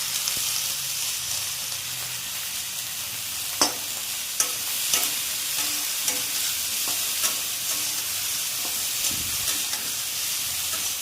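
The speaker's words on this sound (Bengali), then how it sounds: "নুনগুলো একটু ভাজা হয়ে নেয়," Ridge gourd pieces fry with a little salt in a hot pan, giving a steady bright sizzle throughout, with occasional sharp clicks and scrapes from a stirring utensil.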